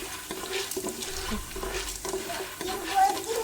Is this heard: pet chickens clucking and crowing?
no